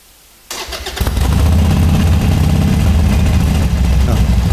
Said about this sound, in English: Now as soon as the engine fires